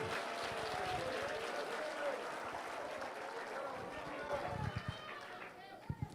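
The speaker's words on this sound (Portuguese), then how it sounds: "vamos aplaudir a esse Deus tremendo" A church congregation claps together after a call to praise, the applause dense and roomy, giving way to scattered claps and chatter near the end.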